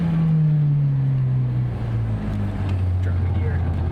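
A Honda S2K sweeps past at a mountain touge event, its engine note sliding downward as it goes by, loud and close, with voices talking over it.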